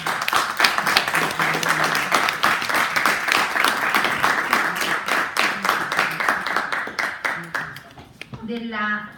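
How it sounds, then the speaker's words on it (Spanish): Applause for a doctor receiving a certificate at a law-teaching panel event: a steady, dense crowd clapping close by for about eight seconds, fading briefly before a voice speaks at the end. "les pido un fuerte aplauso para ella"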